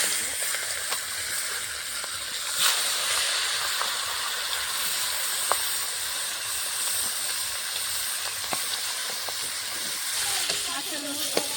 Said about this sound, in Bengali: এখন আমি মাছের মুড়োটা ভেজে নেব।